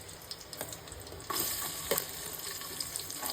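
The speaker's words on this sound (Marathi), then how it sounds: "मोहरी आता आपण कांदा टाकून घेऊ." Onion hits hot oil with mustard seeds, a faint, continuous sizzle with crackling pops and a burst of frying as it lands, then a brief scrape of stirring.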